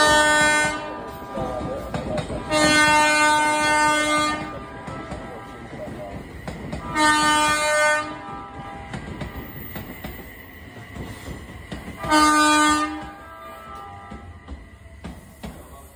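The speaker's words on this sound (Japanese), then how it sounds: "回送電車発車いたします。" An empty out-of-service train pulls out of a Japanese station with rumbling wheels and clatter, while a loud two-tone horn or chime sounds repeatedly in bursts over the noise.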